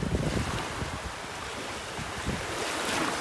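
Ocean waves washing onto a beach in North Naples, Florida, a continuous broad surf roar with gentle swells, mixed with wind buffeting the microphone and no talking.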